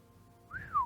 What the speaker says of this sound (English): Why are you whistling at me?